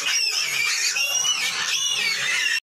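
Piglets squealing shrilly ahead of an injection, a loud, continuous high-pitched screaming close by that cuts off abruptly.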